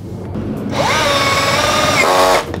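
A Keelat 6-in-1 multifunction drill drives a screw into wood, its motor whining up steadily in one loud, close burst of about two seconds, pitch rising then holding, then cutting off.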